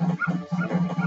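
Dogs in Majora's Mask give repeated short, loud barks and yips in a quick, steady rhythm for about a second, close by and with no voices.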